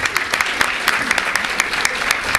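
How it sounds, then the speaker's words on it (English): An audience claps for the committee co-chairs, a brief burst of steady, moderately loud applause with distinct individual claps throughout. "Can we have a huge round of applause for them?"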